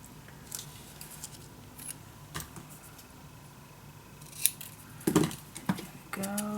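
Scissors snip through scrapbook paper for an ocean-themed mini album, a few faint, soft cuts and rustles up close over a quiet room hum, growing busier near the end.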